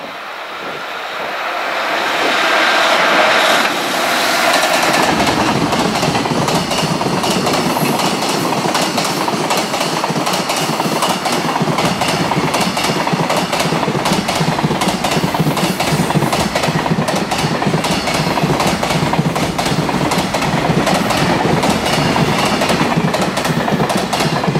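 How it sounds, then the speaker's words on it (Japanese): An upbound freight train passes Maisaka station, its wheels clattering rhythmically over the rail joints. The sound swells in within a few seconds and stays as a loud, steady, close roar of rapid clickety-clack. "ここのね上り列車の、ジョイント音がね非常に好評ですので"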